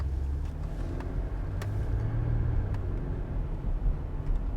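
Toyota or Lexus car driving after a wheel bearing replacement, a low steady road and engine rumble heard from inside, fairly quiet and even with no talking.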